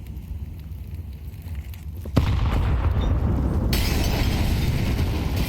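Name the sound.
grenade explosions in video game Counter-Strike 2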